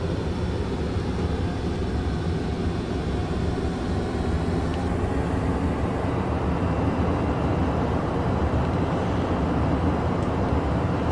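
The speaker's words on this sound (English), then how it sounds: "You can just hear how those engines kick in" Piston engine drone of a North American P-51 Mustang in Flight Simulator X, a loud continuous rumbling roar with steady throb, holding constant and slightly shifting in tone, no voices present.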